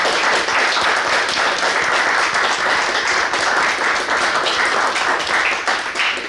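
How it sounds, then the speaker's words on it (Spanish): Audience at a lecture about María Zambrano applauding Dr. Angelina Muñiz, a dense, steady, loud wash of clapping that holds throughout with no talk over it. "simplemente le vamos a dar un enorme aplauso y un enorme agradecimiento por estar aquí"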